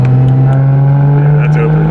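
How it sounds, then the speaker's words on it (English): A single-turbo N54 BMW 135i with its exhaust muffler valves open drones loudly and close by with a strong, steady low engine hum, while people talk over it. "Obviously, you want the valves open if you're gonna go have fun."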